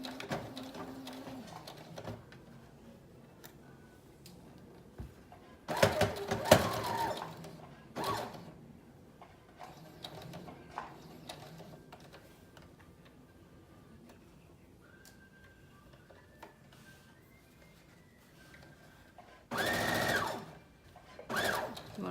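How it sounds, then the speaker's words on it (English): A sewing machine stitches around the neckline of a wrap dress in short separate bursts of rapid mechanical whirring, fairly close, with quiet pauses between runs. "You want to sew this all the way around the entire neckline."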